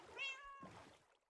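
A Minecraft cat named Bob gives a single short, clear meow, followed by a softer trailing second call.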